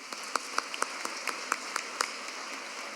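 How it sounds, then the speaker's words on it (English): Scattered applause at a lower school awards ceremony, a small audience clapping in sparse, uneven bursts, fairly quiet and heard on its own. "One more round of applause"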